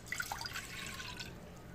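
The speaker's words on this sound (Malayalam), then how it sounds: "അതിലേക്ക് ഞാൻ 1 ബൗള് വെള്ളം ഒഴിച്ചു കൊടുക്കുന്നുണ്ട്." A bowl of water poured into a pan on the stove to start a custard halwa: a faint, brief trickle and splash with a few drips, heard alone.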